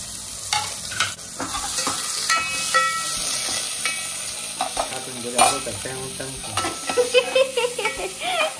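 Onions fry in hot oil for Goan squid ambot tik, a steady close sizzle with repeated scraping stirs of a spoon in the pan.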